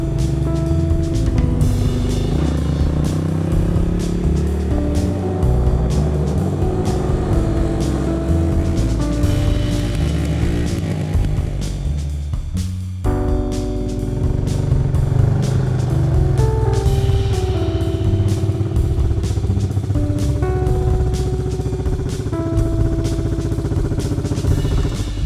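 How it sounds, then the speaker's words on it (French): An old four-wheeler ATV engine runs steadily at close range, a loud continuous motor drone that dips briefly midway before resuming at full strength. "C'est un vieux 4 roues."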